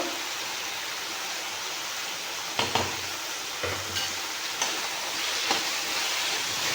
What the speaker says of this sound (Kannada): ನಾವು ಸ್ವಲ್ಪ ಎಣ್ಣೆಲಿ ಸ್ವಲ್ಪ ಚೆನ್ನಾಗಿ ಫ್ರೈ ಮಾಡ್ಕೋಬೇಕು